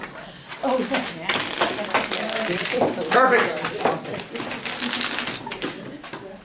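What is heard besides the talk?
shuffling playing cards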